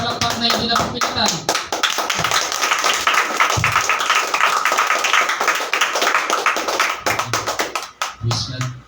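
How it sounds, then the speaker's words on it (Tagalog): Loud, dense clapping from a church congregation, many hands striking fast and steadily, with a few spoken words heard over the applause. "Yung palakpak na hindi na pagpilitan."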